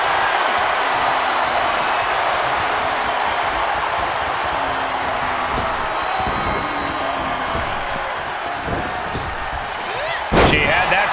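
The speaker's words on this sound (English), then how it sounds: "What a forearm smash." A forearm smash lands in a WWE 2K25 wrestling match, a sharp impact thud near the end over a steady roar of the arena crowd, with commentary voices running throughout.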